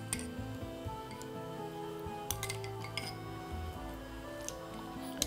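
A utensil stirs quiche filling in a bowl with irregular light clinks and taps, fairly quiet, alongside a steady background hum and no talking.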